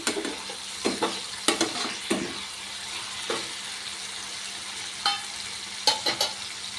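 Curry leaves and tomato fry in oil in a pan for an ivy gourd stir-fry, a soft constant sizzle broken by sharp intermittent spoon knocks and scrapes, close up with no talk.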